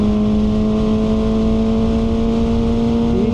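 QJMotor SRK 450RR motorcycle pulling hard with a quickshifter, its engine note steady and loud with strong harmonic tones throughout and a brief pitch shift near the end, no talk over it.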